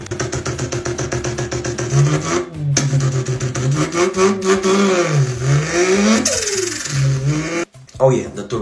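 A voice imitates the Mazda RX-7's 13B rotary engine with a close, buzzing, warbling tone that swoops up and down in pitch like revving, broken by brief pauses.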